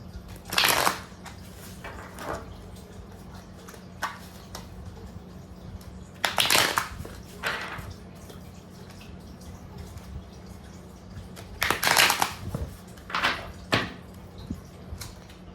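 Tarot cards being shuffled in several short, crisp riffling bursts separated by pauses, sitting over a steady low room hum.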